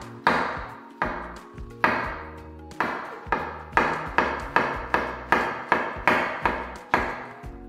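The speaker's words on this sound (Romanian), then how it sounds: "Vom începe prin a tăia ciupercile." A knife chops mushrooms into small pieces on a board, with about a dozen sharp, evenly paced thuds that ring briefly, close and fairly clear with no talk.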